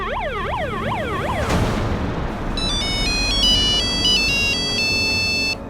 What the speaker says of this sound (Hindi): मिस्टर आकाश की वाइफ तो फोन नहीं उठा रही है